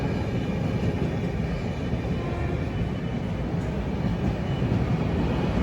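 Shatabdi Express passing on the Mysore route at a crossover, a loud, steady roar of rolling wheels and rail rumble sustained throughout without a break.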